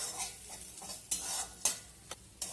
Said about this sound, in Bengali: এবার রসুনের সঙ্গে কালো জিরাটাকেও খুব সুন্দর করে ভেজে নিতে হবে।